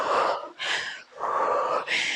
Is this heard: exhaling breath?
yes